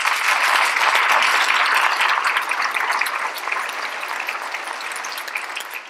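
A school audience at a State of the Schools address breaks into sustained applause, strong at first and then gradually thinning as the clapping eases off.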